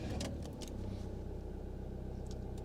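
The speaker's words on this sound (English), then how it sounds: "Start the engine" The engine of a WildAx Solaris XL campervan starts and settles into a low, steady idle close by, with a few brief clicks near the start and no talking.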